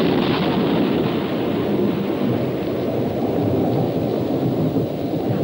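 Thunder from a building storm in the 1965 film The Wizard of Mars, a loud, continuous low rumble that rolls without pause, dense and roaring like a heavy storm with wind or rain mixed in, and no voices.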